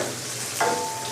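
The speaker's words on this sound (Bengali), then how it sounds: "এখন এটাকে আমি ভালো করে ভেজে নেব" Whole cumin seeds and chopped green chilies frying in a pan make a brief, steady hiss of hot oil, with a light metallic clink and ringing tone midway; no one speaks.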